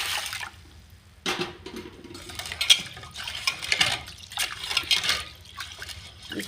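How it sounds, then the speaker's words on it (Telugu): Toor dal lentils are washed by hand in a bowl of water, giving irregular sloshing, swishing and trickling splashes close by. "ఒక కప్పు కందిపప్పు వీటిని శుభ్రంగా కడుక్కోవాలి"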